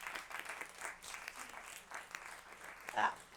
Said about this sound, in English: round of applause for Jodi-Ann.